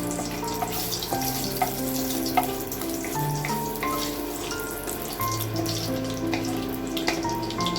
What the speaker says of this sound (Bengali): একটু অয়েল দিয়েছি, আর এখন একটু গোটা গরম মশলা ফোড়ন দিয়ে দেবো।